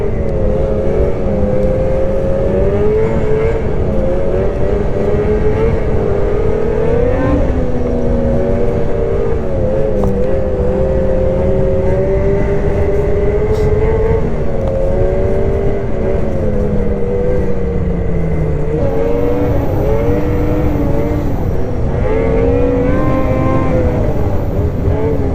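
A BRP Lynx Xterrain 900R snowmobile engine revs steadily, its droning tone rising and falling with throttle changes, loud and close for the whole stretch with no talking.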